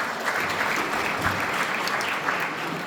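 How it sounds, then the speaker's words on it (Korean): An audience at a business CEO association lecture applauds to welcome the speaker, a steady, even roar of many hands clapping that sustains for the whole stretch without talk. "큰 박수로 맞이해 주시기 바랍니다"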